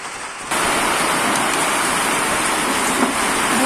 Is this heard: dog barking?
no